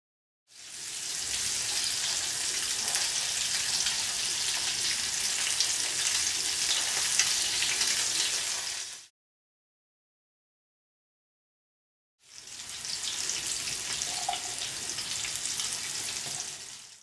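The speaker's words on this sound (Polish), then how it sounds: "Pulpety smażymy na rozgrzanym oleju z jednej i drugiej strony na złoto." Fish meatballs dredged in flour sizzle steadily in hot oil in a frying pan, a dense, even crackle for about eight seconds, a pause of silence, then the frying resumes just as loudly.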